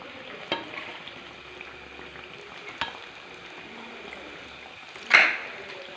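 Pazhamboli banana fritters fry in hot oil, a quiet, even bubbling hiss with a couple of faint clicks and a brief metallic scrape near the end as they are lifted out.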